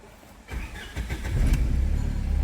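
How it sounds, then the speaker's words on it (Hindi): Engine of a Tata Safari Storme SUV, a vehicle with a cylinder 1 fault code, black smoke and knocking, cranking briefly and then catching into a steady, rough idle, close and loud with no talk. "अब करते हैं गाड़ी को स्टार्ट।"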